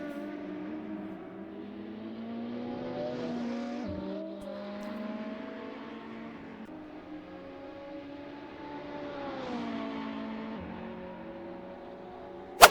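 A Ferrari 3.9-liter twin-turbo V8 rated at 720 horsepower runs on a dyno with a steady, close engine drone that rises and falls through two long revving sweeps, ending in a brief sharp click.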